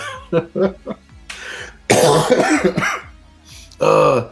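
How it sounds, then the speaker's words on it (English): Several rough coughing bursts, close and loud, scattered between quieter breathy sounds and a brief throat clear. "Laughing still makes me cough"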